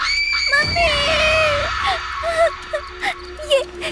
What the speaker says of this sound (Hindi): उसे देखकर जोर से चिल्लाई